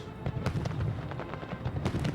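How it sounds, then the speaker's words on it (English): Fireworks bursting over a lake on July 4, a rapid run of muffled distant pops and thumps over a noisy crowd-like background. "Sitting right along the lake watching fireworks."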